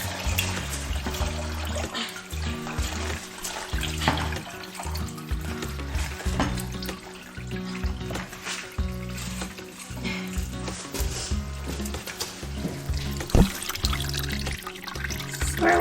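Coolant drains from a bus heater radiator that has been pulled out, a soft continuous trickle and drip of liquid. It runs steady and fairly quiet for the whole stretch, with faint handling noises and no talking.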